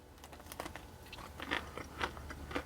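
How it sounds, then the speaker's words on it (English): Close, fairly quiet crunchy bites and chewing of KFC Original Recipe chicken tenders, with a few crisp crackles of breading spread over a couple of seconds. "the original recipe tenders over here at KFC"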